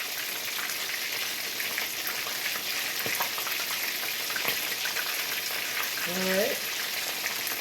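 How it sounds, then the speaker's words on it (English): Dense, steady crackling sizzle of extra large colossal shrimp frying in hot grease, close and even throughout, with a brief spoken word and a faint voice near the end. "that's for the extra large colossal shrimp that I cook like 2 minutes per side"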